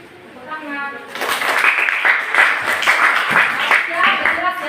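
Applause breaks out from a classroom audience of children after a religious lesson, a dense burst of hand clapping that starts about a second in and continues steadily to the end, with some children's voices mixed in.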